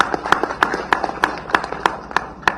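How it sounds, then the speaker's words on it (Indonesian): Applause for the head of Indonesia's National Narcotics Agency at a press event on a foiled meth smuggling case, heard as a steady run of sharp, evenly spaced claps. "kita tepuk tangan untuk Kepala BNN"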